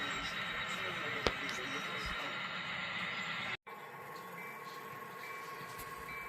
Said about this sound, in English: CSX interchange train rolling in.